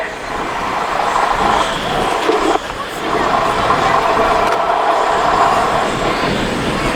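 A vintage Scammell heavy haulage truck, kept in excellent condition, drives through a show arena with a steady, loud diesel rumble. The engine note holds for the whole stretch with a brief dip partway through, and faint voices sit in the background.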